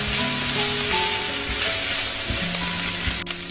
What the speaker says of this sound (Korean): 중강불에서 함께 볶아주세요